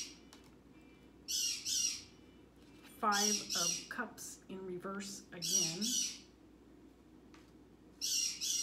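A pet bird squawks indoors in repeated harsh, shrill bursts, some short and some drawn out, loud and close, with quiet gaps between them and a person speaking briefly.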